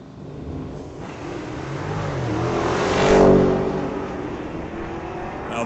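A drag race car and a blue Chevy pickup accelerating down the strip, engines roaring and building to a loud peak around the middle before fading slightly, with crowd and track ambience beneath.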